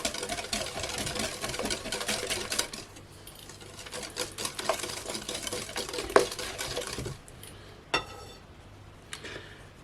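Electric hand mixer whirring through yogurt cake batter with vegetable oil, a steady motor buzz that is loud in the first few seconds, then softer with light clinks from the bowl, and a brief burst near the end.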